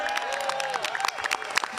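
A convention audience breaking into applause and cheers for a national federation president, dense clapping and scattered shouts spread across a large hall, steady and moderately loud.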